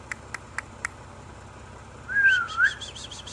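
Four quick sharp clicks, then a clear bird call with two rising and falling whistled notes, fairly close and otherwise quiet.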